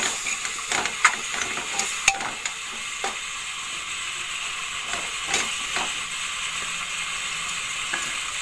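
Chicken masala sizzling in a pan as a spoonful of garam masala is stirred through it, a steady close fry hiss with a few scraping spoon knocks, no voices.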